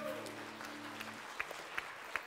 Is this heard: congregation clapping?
yes